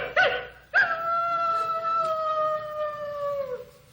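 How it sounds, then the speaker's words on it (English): A coyote lets out a long, clear howl after a short yip, the sustained wavering note held for about three seconds before trailing off, heard alone without talk. "That's a coyote."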